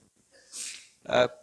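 Someone in a chemistry classroom lesson sneezes nearby: a soft, breathy intake followed by a short, sharp burst, with no speech around it.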